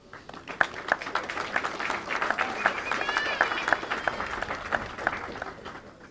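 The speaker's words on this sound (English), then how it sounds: "they deserve a round of applause." Families and guests give a round of applause at a 2022 Bermuda passing out parade: a steady, dense patter of many hands clapping at a moderate distance, sustained for several seconds.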